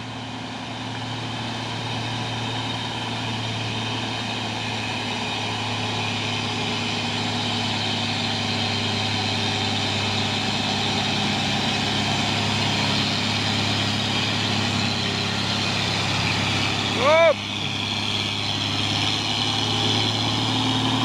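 A six-by-two Mitsubishi Fuso truck labors up the steep Bukit Kodok climb on a hill road, its engine a steady, loud drone that holds throughout with a brief chirp near the end; no one speaks.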